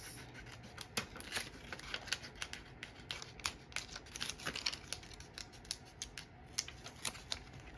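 Scissors snip fabric while letters are cut out for a homemade t-shirt, a quiet run of crisp, irregular snips and rustles close by with no talk.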